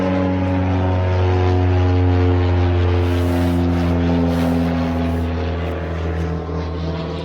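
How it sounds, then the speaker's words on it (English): A seaplane passes low over a stream, its propeller engine producing a loud, steady droning hum with strong tonal harmonics that holds throughout and fades slightly at the end, with no talking. "I thought for a minute, Joe, that he was a water plane."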